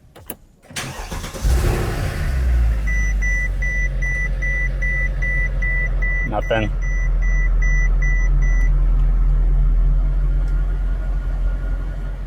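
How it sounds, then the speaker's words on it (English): A Mercedes C216/W221 with an M156 engine cranks over and fires up, then settles into a loud, steady idle close by, with a few regular warning chimes beeping above it. "At least we get to hear the M156 engine."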